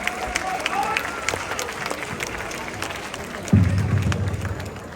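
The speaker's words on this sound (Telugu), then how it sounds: "గట్టిగా చప్పట్లు." A crowd claps at a laddu auction, the applause moderate and continuous, with a sudden louder burst of noise partway through and voices under the clapping.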